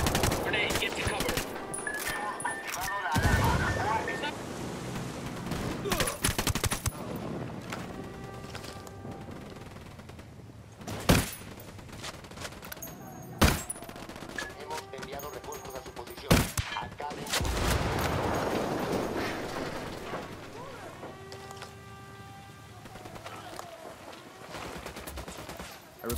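Gunfire from the video game Ghost Recon Wildlands crackles in scattered shots and bursts, with several sharp, loud reports standing out over a busy background of combat noise across the whole stretch.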